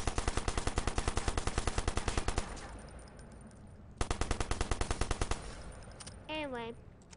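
A video-game gun fires long, rapid rhythmic volleys in two loud bursts, close and alone. A rising electronic chirp follows the second burst.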